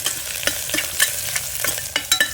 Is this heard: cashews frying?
yes